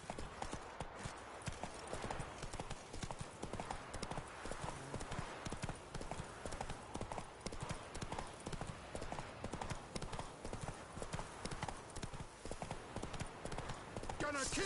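Horse hooves clip-clop at a steady galloping rhythm throughout, close and continuous, in The Witcher 3 video game, with a voice speaking over the hoofbeats.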